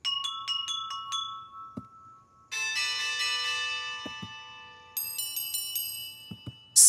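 Bright cartoon bell chimes ring from bell peppers in a children's cooking cartoon, a series of clear, quick tinkling tones with sustained ringing tails and a few soft thuds between.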